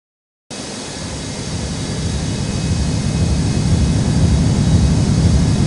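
A jet airliner on a runway at Newark airport, a loud, broad engine roar that starts abruptly and slowly builds in strength, continuous and close, with no voices.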